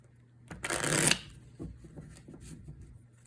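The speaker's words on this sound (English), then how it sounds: "So what you'll do is you can shuffle the cards again." A quick riffle of playing cards being shuffled, loud for about half a second, followed by softer taps and handling of the deck.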